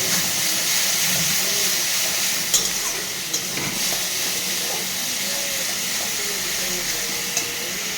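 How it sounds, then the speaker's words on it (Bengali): A pot of rice on the stove boils over and steams, giving a loud, steady hiss and bubbling close by, with occasional small clicks and no one speaking. "আর ভাতটা দিয়ে উতাল দিয়ে দিয়েছে, ভাতের ঢাকনিটা খুলে দিতে হবে। গরম হয়ে গেছে।"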